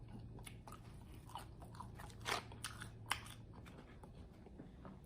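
Crispy seasoned Wingstop fries crunch in a few close, soft bites while being eaten, with light chewing between them.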